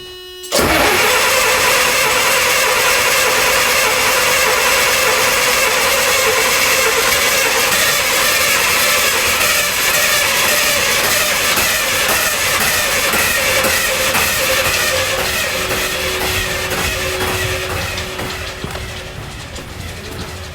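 A Midland Red Leyland National bus diesel engine, sitting idle for a long time, cranks and catches abruptly, then runs loud and steady close by. It settles slightly near the end.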